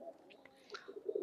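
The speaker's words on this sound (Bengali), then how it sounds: "নতুন কিছু কবুতর বেবি ছাড়ছি" Faint pigeon coos and soft bird calls from young pigeons let out for homing training, brief and low in level.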